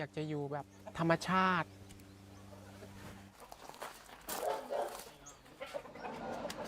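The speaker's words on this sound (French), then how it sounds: "Elle n'élève pas des poules, mais des coqs de combat." Thai fighting cocks crow and cluck close by, with a loud drawn-out crow early on over a steady low hum, then scattered clucks, scuffing footsteps and a voice talking in the background.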